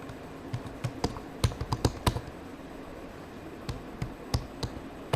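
Keys clack on a computer keyboard as Python code is typed, a close series of crisp taps in uneven bursts with short pauses between.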